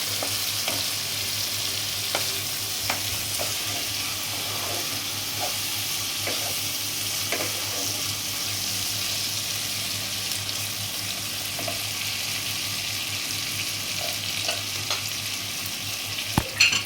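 Cashews and raisins fry in a pan for prawn pulao while being stirred, a steady close sizzle with occasional light scrapes and taps of the spoon, and no one speaking.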